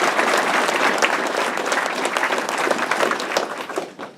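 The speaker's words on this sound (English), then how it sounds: "Can we give him a round of applause?" A crowd at an Honor Flight event for veterans gives a veteran a round of applause, close, brisk clapping with individual claps standing out, easing off at the end.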